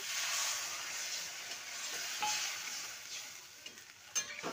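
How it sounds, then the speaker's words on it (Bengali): Spice-rinse water poured onto bitter gourd frying in a pan gives a steady, fairly faint hiss and sizzle, with a few soft stirring knocks near the end and no talk. "এবার দিয়ে দেবো জল, এটা মশলা ধোয়া জল।"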